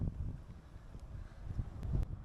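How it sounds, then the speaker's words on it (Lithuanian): Cold wind buffets the microphone during a bikepacking ride near Saint Michel in France, a faint, low, uneven rumble that swells and fades in gusts, with no talking. "Vėjai pučia, važiuoti sunkiau darosi vis."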